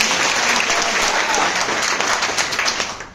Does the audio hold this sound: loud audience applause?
yes